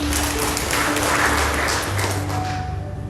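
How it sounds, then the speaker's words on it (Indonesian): A church congregation claps together during a worship service, a dense, steady wash of applause lasting the whole stretch, with a low hum and faint musical tones beneath it. "Tepuk tangan buat Tuhan."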